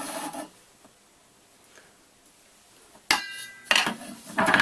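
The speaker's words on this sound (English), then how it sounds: "So I'm going to cut these stitch welds here." An angle grinder or cutting tool bites into stitch welds on a metal air vent, with short harsh rasping cuts near the start and end and a quiet gap between them, loud and close.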